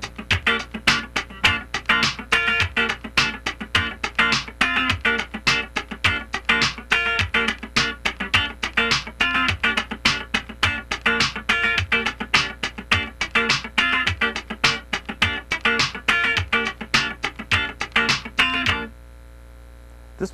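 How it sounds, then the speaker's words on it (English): Funk rhythm guitar in an Earth Wind and Fire style, muted strings scratched in a steady straight-feel sixteenth pattern, dense percussive strums played continuously and close until a sudden stop near the end. "just scratch the guitar all the way through"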